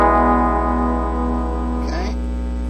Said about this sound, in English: I'm playing a P90 pickup here